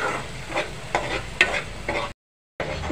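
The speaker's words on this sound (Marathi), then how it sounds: "छान मिक्स करा" Tomatoes and spices stirred in a sizzling pan for a brinjal and potato curry, a few close scrapes of the spoon over frying hiss, then a brief drop to silence before the stirring resumes.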